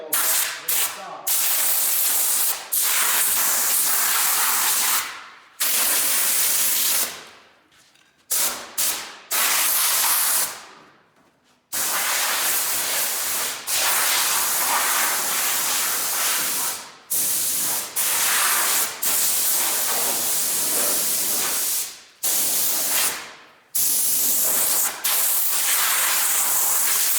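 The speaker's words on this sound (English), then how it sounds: "I don't want my air nozzle spraying a little water" Compressed air nozzle spraying onto MCI bus window trim, repeated loud hissing bursts of several seconds each separated by short pauses, close up, with occasional talk between blasts.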